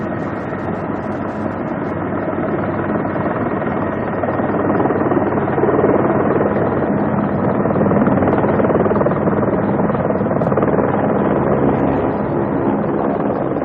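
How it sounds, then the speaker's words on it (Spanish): A helicopter hovering low over marshy rice paddies near excavations gives off a dense, steady engine and rotor roar that stays loud and close for the whole stretch, with a slight swell midway. "Al oír el sonido del helicóptero, los campesinos se reúnen en los arrozales cercanos a las excavaciones."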